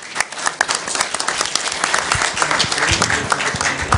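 Audience applause at an Italian conference session for an incoming speaker: dense clapping from a seated crowd, fairly loud and steady for four seconds, with scattered sharper claps and no talk over it.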